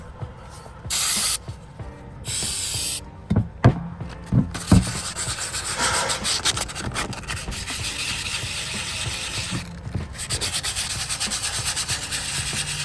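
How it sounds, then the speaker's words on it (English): Aerosol brake cleaner sprays onto the air pump of a 1995 Mack truck in short loud hissing bursts, followed by steady scrubbing and rubbing on the metal, all close by with no talking. "Use a little bit of brake cleaner in this, and we'll get this nice and cleaned off."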